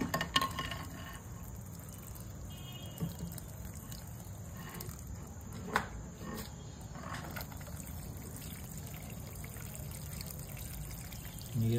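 Water is poured onto a potted tamarind plant, making a faint, quiet trickle with a few small splashes against low background noise.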